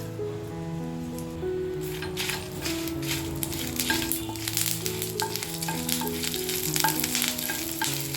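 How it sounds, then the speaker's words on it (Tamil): Dried red chillies and curry leaves fry in sesame oil, a dense, steady crackling sizzle with bright popping spatters, loud and close, with no talking. "அதனால தான் இதை மிளகா வத்தலோடு சேர்த்து வதக்குறேன்"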